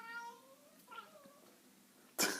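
A house cat meows twice in quick succession, close and clear against a quiet room, followed by a sudden sharp burst of noise.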